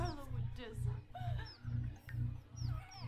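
A hen in The Sims 4 clucks in a series of rhythmic, repeated bursts, fairly close and clear, with a few higher squawking notes between the clucks.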